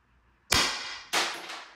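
HPA airsoft gun, an X.68, firing two sharp, loud shots about half a second apart, each a crisp pneumatic crack followed by a short hissing tail.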